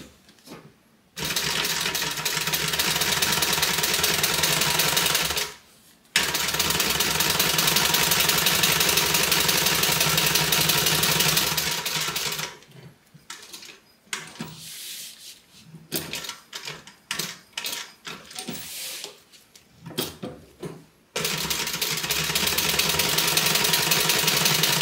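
Sewing machine top stitching along both sides of a fabric seam, running in long steady bursts with short pauses, then a choppy stretch of brief stop-start runs before a final sustained run, close and loud.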